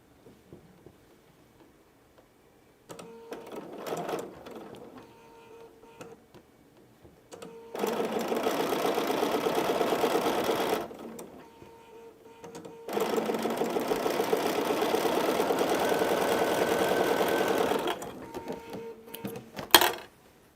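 A sewing machine stitches quilt fabric in long steady runs, with a brief burst first, then two sustained whirring passes broken by short pauses and a final quick spurt.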